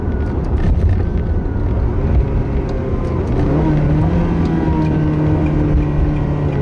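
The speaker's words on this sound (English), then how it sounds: "Let's have a listen to this beautiful F1 gearbox, this Ferrari engine." A Ferrari 360 engine with an F1 gearbox revs as a steady, loud roar that climbs in pitch about halfway through, with no talking.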